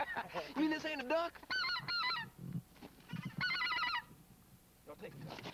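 Geese honking close by during a goose hunt, a series of loud nasal calls in irregular bursts, with low murmured voices in between.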